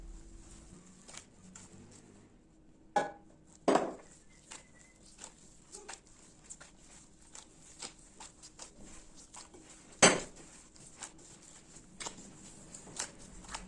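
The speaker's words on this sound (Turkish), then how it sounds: "Yumuşak ve ele yapışmayan bir hamur elde edene kadar ortalama 2-3 dakika boyunca hamuru yoğurmaya devam edeceğim" Hands kneading a soft, yeast-free dough make quiet, soft squishing and patting sounds, with a few sharper slaps and taps scattered through.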